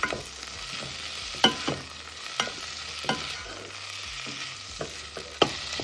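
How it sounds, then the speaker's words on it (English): Drained peas sauté in a pan, soft sizzling broken by several sharp scraping stirs of a utensil at irregular intervals, close and fairly quiet, no talking. "I want to kind of saute the peas before you add the liquid to it"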